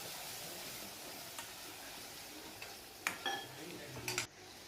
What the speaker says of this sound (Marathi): बारीक कापलेला टमाटर ते पण टाकते आणि ते पण एकदम मस्त परतून घेते